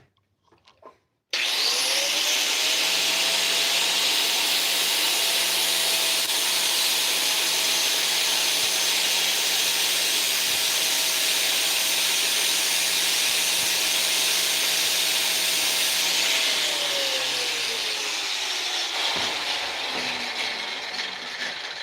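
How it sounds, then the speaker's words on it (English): A grinder fitted with a flap disc cuts through steel in a loud, steady high-pitched whine that holds for about fifteen seconds, then spins down and trails off after the cut ends. "we had the flap disc on it, so I had to cut it with that"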